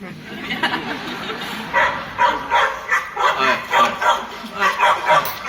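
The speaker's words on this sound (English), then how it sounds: "Here's the little bark." A small dog barks in a rapid run of sharp, close yips and bow-wows, about a dozen in quick rhythm, loud and clear.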